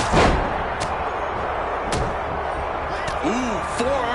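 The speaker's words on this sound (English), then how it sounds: "German suplex." German suplex slam in the WWE 2K26 video game: a heavy thud at the start followed by a few further impacts, with crowd noise and commentary talk running over it.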